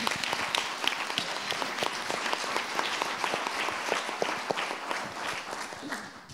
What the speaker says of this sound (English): I'll let the applause end because she deserves it.